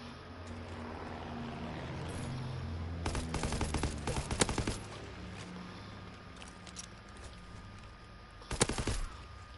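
Bursts of rapid gunfire in a PS4 shooter game, a few quick volleys of shots, one cluster midway and another near the end, over a steady rumbling background of engine noise and battle ambience.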